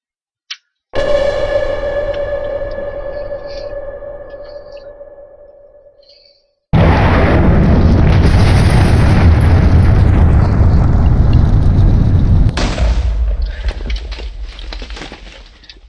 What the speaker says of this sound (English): the attractive missile. You guessed it. Instead of blowing everything back, pulls everything in.